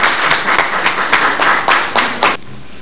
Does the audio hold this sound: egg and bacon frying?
no